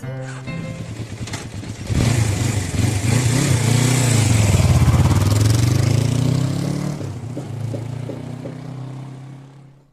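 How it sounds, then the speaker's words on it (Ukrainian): A motorcycle engine idles, then revs up loudly and holds a strong, rising drone for several seconds before slowing and fading back to a low idle, close and alone with no talk. "Мотоцикл"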